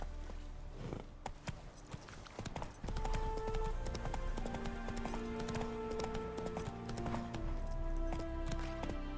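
Hooves of the horse Roach in The Witcher 3 video game: a steady, close clip-clop that continues throughout, with sustained game music tones coming in partway.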